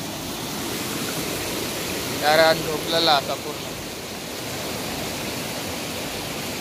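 Fast-flowing floodwater stream rushing over stones in Konkan after heavy rain, a steady broadband rush close by, with someone speaking briefly over it midway.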